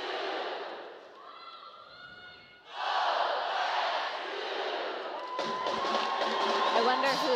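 Crowd at a college softball game, Washington at Oregon State, cheering and chanting together in loud rising bursts, with voices and whoops carrying through the stands.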